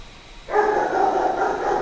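A pet dog barks and yips indoors, a steady run of sharp repeated barks starting partway through and continuing loudly to the end, close to the microphone.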